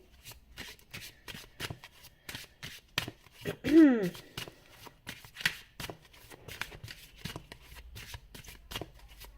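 Tarot cards are shuffled in quick repeated riffling bursts, crisp and close, with a brief voice heard partway through.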